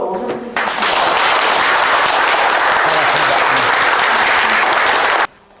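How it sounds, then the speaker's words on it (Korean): A lecture audience breaks into loud, sustained applause to welcome a former unification minister, the clapping dense and close for about five seconds before cutting off abruptly. "큰 박수로 모셔드리겠습니다."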